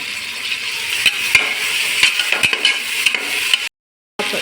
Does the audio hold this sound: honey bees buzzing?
no